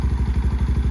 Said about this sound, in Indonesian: Nah, ini suara idle-nya ya kalau dari jauh.